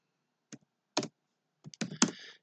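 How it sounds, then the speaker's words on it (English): Short bursts of typing on a computer keyboard while entering CSS code: a few isolated key clicks, then a quick cluster of keystrokes, close and clear against silence. "I'm going to type in .logo,"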